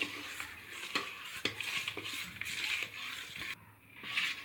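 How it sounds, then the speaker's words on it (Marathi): A spoon stirs a mung bean and jaggery summer sharbat in a vessel to dissolve the jaggery, a soft scraping swirl with faint clinks that repeats roughly every half second. "आणि हे व्यवस्थित मिक्स करून घेऊया"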